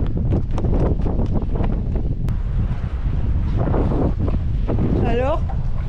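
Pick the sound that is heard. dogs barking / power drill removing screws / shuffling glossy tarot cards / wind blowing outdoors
wind blowing outdoors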